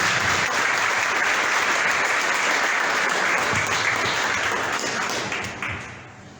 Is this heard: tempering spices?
no